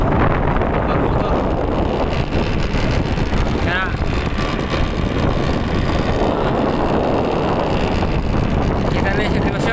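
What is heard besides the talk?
boat motor running in typhoon wind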